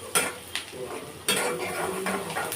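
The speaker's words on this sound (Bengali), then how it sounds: "সেই যেভাবে পিঁয়াজ মরিচ ভাজতেছি আর কি" Onions and chilies with a little turmeric fry in a pan for a spiced mash, stirred so a spoon clinks and scrapes against the metal in a few sharp strokes over a steady close sizzle.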